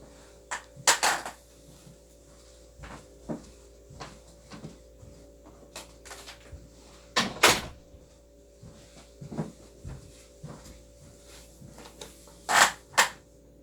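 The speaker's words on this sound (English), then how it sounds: "let me shut my door." A door is pushed shut in a quiet room, a few sharp thumps and knocks standing out over a steady low hum, with small rattles and bumps scattered between them.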